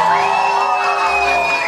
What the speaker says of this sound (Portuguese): Muitas palmas para a debutante.